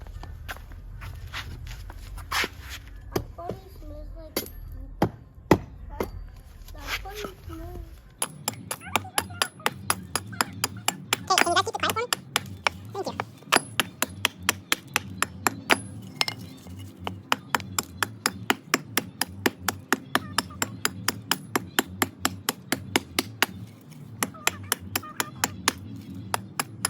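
Firewood being split into small kindling pieces for a Solo Stove Bonfire 2.0 portable backyard fire pit: a long run of sharp, rhythmic chopping knocks, close and steady, following a stretch of speech at the start.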